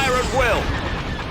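Laser blaster fire from Imperial troops in the Star Wars Empire at War strategy game, a rapid burst of descending zaps over busy battle noise with a voice in the mix.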